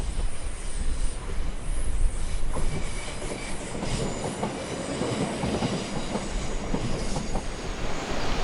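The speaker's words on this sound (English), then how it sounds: "I can see one of the few trains coming into Whitehaven just coming around that first bit of bay" A train rumbles past along a coastal bay line near Whitehaven, with a continuous rolling roar of wheels on rails, loud and close, faint squealing and clatter riding on top.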